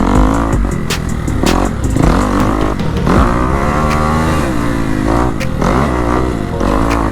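Motocross motorcycle ridden on a dirt track at Pax Trax in Daytona, Florida, its engine loud and close throughout, revving up and down with rising and falling pitch sweeps and occasional clattering.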